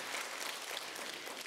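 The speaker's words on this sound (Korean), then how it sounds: "아무것도 안 해도 큐티만 해도 박수 쳐주시네요" A worship congregation gathered for a Wednesday service claps together in a steady, dense burst of applause that fills the room evenly from start to finish without any voices.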